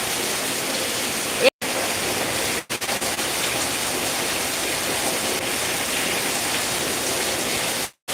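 Steady, dense rainfall hisses close by as an even wash of noise that continues almost unbroken, with only a couple of brief dropouts.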